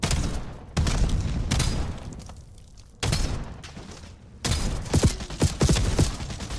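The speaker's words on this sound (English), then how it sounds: "the shotgun's strong enough to reach out and take this guy down" Shotgun blasts ring out in an online shooter game, several heavy booming shots spaced apart with rumbling tails, loud and alone.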